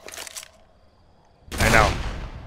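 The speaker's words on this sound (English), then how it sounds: "Who in the hell shot me? You are shooting me." Gunfire in Left 4 Dead 2, a short burst of shots at the start, then quiet, then a louder, denser burst of firing near the end.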